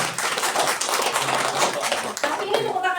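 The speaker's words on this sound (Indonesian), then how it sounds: "Tepuk tangan aja yang gampang." Seminar attendees clap hands together as a warm-up exercise, a dense burst of clapping overlapping with voices and some chatter, then tapering with a brief pause.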